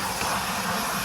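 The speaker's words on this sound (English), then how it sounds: "I'm going to switch the hoover on and pretend to be busy" Household hoover vacuum cleaner running steadily at close range, a loud continuous broadband roar with an airy whine, picking up small dog hairs from the floor indoors.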